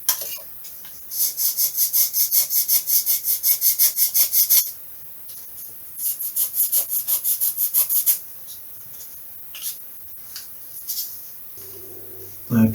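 Thin 1/16 inch balsa stock being sliced into strips for a stick-and-tissue model, heard as two runs of quick rhythmic rasping strokes, close and crisp, followed by a few isolated scrapes and a soft tap.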